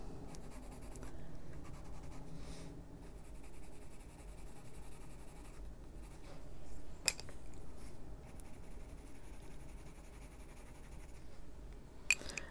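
Colored pencils scratch steadily on paper, close and quiet, in continuous soft strokes with a couple of small clicks.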